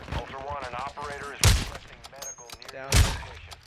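Enemy gunfire in a first-person shooter video game, two loud cracking shots about a second and a half apart cutting through busy game audio, with a person talking between them.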